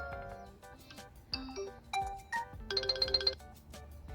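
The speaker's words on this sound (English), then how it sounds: "That's your ringtone." The Realme GT Neo phone plays its ringtone through its speaker: a short, quiet run of bright, bell-like electronic tones that steps through a melody and ends in a quick rippling flourish, with no talking.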